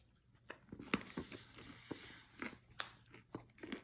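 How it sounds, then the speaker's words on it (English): Several crisp bites and crunchy chewing sounds of a french fry close up, irregular and fairly quiet, with no talking. "I'm gonna have a French fry now."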